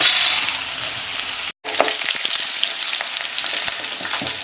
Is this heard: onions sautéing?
yes